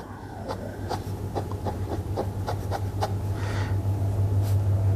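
A Moonman 80 Mini fountain pen writes numbers on paper close up, its nib giving a run of short, soft scratchy strokes in an uneven rhythm over a low steady background hum.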